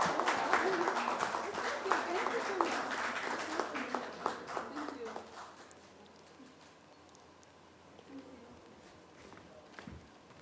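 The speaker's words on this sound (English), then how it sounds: "Ladies and gentlemen, please put our hands together for this show." Audience applause and clapping at a public media event honoring a film actress, dense and fairly loud for about five seconds, then fading to scattered claps and murmuring crowd noise.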